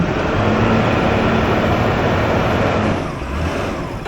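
A wrecker truck does a one-wheel peel, one wheel spinning under hard throttle. The engine and tire give a loud, steady roar for about three seconds, then ease off.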